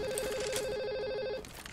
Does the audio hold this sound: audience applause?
no